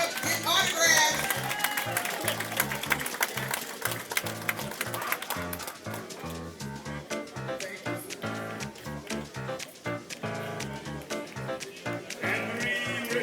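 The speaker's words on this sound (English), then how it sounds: "Clap it up" Audience at an elders' honoring ceremony clapping steadily as names are called, applause running the whole time, mixed with crowd chatter and a voice on the microphone.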